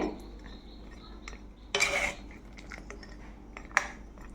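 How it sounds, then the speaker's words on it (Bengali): Palm pithas stirred in sugar syrup in a pot, with a few close metallic clinks and scrapes of a spoon against the pot, including one brief louder burst, otherwise quiet. "তো এবার শিরার মধ্যে এই পিঠাগুলো দিয়ে দিচ্ছি"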